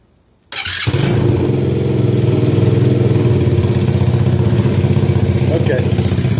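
A Coolster 125cc ATV engine starts up after a brief silence, catching abruptly, then settles into a loud, steady running note with slight revving, close to the listener.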